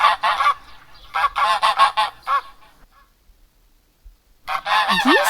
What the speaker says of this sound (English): Geese make this sound.